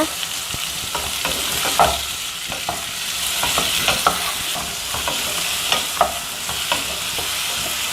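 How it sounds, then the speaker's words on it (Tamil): Chow chow is sautéed with tomato and tamarind in a pan. A loud, close sizzle runs throughout, broken by frequent scraping clicks from a spoon stirring the mixture, and no voices are heard. "இன்னும் கொஞ்சம் நேரம் வதக்கிக்கலாம்"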